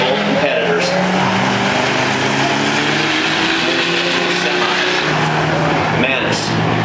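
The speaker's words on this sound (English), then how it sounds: "Green light start for both competitors." Drag racing cars launch from a green light start, their engines roaring with rising, sustained tones and some tire noise, heard at a distance under an announcer's talk.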